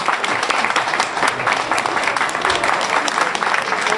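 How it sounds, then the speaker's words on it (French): A reunion crowd breaks into sustained applause after a meal, steady dense clapping from many people filling the room at a loud, even level throughout. "C'était délicieux et on vous applaudit."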